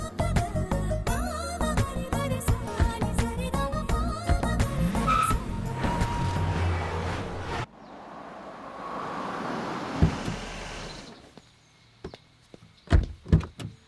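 An Audi Q5 pulls away with a brief squeal of tires after busy music, followed by a whooshing engine pass, a thud like a door, and scattered later knocks.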